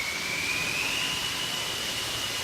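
Ford Raptor pickup truck running on a chassis dyno in a performance shop, a steady loud drone with a whining high tone sliding slightly upward, heard alone.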